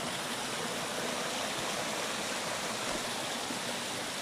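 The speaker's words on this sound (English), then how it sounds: "You see how much water the stream is carrying. And it looks like there's a little waterfall just in front of me." A swollen stream pours over a small waterfall on wild, uncultivated land, producing a steady, broadband rush of water that stays constant throughout, with no voices.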